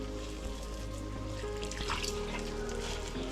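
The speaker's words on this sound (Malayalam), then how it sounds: "ഇതിന് ആവശ്യത്തിന് വെള്ളം ചേർത്ത് കൊടുക്കുക." Water trickles steadily into salted, hand-mixed batter for a Kerala breakfast snack, a soft, continuous pour heard up close and fairly faint.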